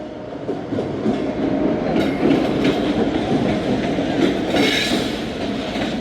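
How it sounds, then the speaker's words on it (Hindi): The Khyber Mail, hauled by locomotive 9053, rolls into Multan Cantt station with steady clattering wheels and rumbling carriages, close and continuous, with brief wheel squeals rising near the end. "टू डाउन खैबर मेल भी इंटर हो रही है मुल्तान कैंट।"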